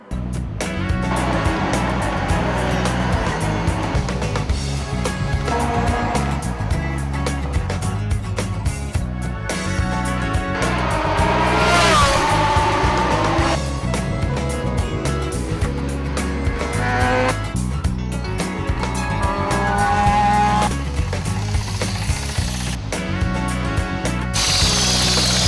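Radical SR8 race cars out in qualifying at Yas Marina circuit, Abu Dhabi, a continuous loud engine roar with rising and falling revs and gear changes, heard throughout without talk.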